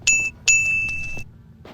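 A remixed phone ringtone in Sprunki style, with two bright, ringing chime hits that sustain and fade, plus a short low thump at the end.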